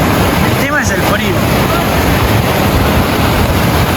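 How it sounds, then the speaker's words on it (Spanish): Strong ocean waves breaking on a cold shore make a loud, continuous roar that fills the whole stretch, mixed with buffeting wind noise on the microphone. "Está fuerte la ola, pero se puede ahí."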